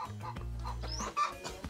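Rhode Island layer hens in a chicken house, clucking close by in short bursts over a low steady hum.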